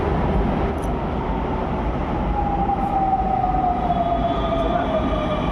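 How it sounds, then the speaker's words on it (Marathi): Koyna Express passenger train pulling into a station, a steady loud rumble of wheels and cars with a rising tonal whine, continuous and close throughout. "ही आहे आमची कोयना एक्सप्रेस. आम्हाला सोडली घेणार आहे. आपली मेट्रो आली भाई."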